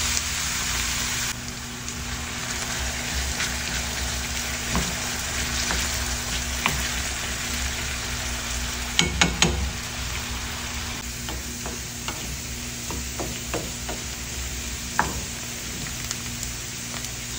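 Potato cubes fry in moderately hot oil for a home breakfast of sautéed corned beef, giving a steady close crackling sizzle throughout, punctuated by occasional sharper pops and stirring clicks.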